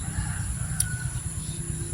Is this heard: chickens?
yes